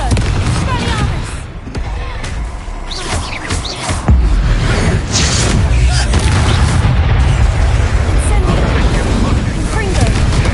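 The Confringo fire spell in Hogwarts Legacy goes off as heavy booming blasts amid a loud, chaotic combat din, the explosions layered with crackling bursts and voices talking.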